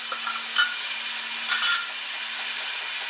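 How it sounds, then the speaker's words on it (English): Steady, continuous sizzling of basil frying in a hot pan for tomato sauce, a bright crackly hiss with a few louder pops, close by and with no voices. "you can hear it sizzling, so we'll put it to medium."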